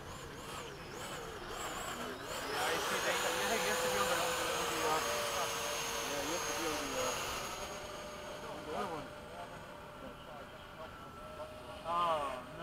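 An F-16 and an F/A-18 make a tandem high alpha pass at an air show, their jet engines building to a sustained distant roar that swells and fades, with people talking nearby throughout.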